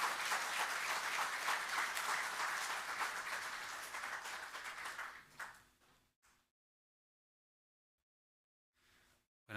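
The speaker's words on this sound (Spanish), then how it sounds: "Con gran aplauso vamos a recibir" An evening church Bible-seminar congregation welcomes Pastor William Escobar with loud, dense applause that holds for about five seconds, then quickly thins out and stops, leaving near silence with a couple of faint stray sounds.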